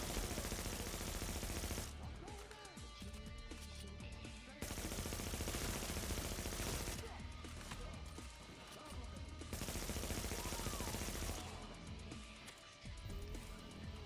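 Enemy gunfire in the video game The Division rattles in sustained automatic bursts, broken by short pauses, all in a busy, loud game mix.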